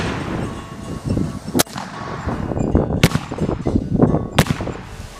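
A Cabela's Hawken .58 caliber muzzleloader rifle fires three loud, sharp booming shots spaced about a second and a half apart, each ringing out briefly over rumbling outdoor noise.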